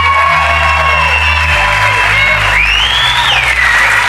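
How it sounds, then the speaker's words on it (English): Dense crowd noise of applause, cheering and whoops fills the whole stretch at a Donald Trump rally in Texas, loud and continuous, with a shrill rising whistle or shout riding over it partway through. "What a great crowd."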